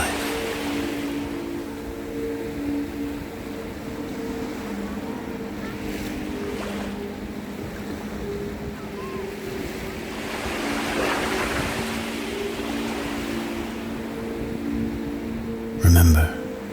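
Ocean waves wash in a continuous surge with breezy hiss and a steady low motor hum beneath, swelling and easing in long rhythms, ending with a brief loud thump near the close.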